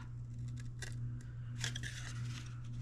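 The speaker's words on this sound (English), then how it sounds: "we're gonna snip this part off." Scissors snip through material in a few short, crisp cuts, close up, over a steady low background hum with no talking.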